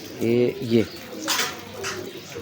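Ferozpuri pigeons coo in two close, throaty calls, followed by softer rustling and a few quiet sounds.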